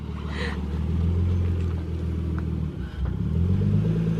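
A clean, stock Nissan 300ZX sports car with a manual transmission driving, its engine giving a steady, loud low rumble with a brief dip in revs partway through, heard up close.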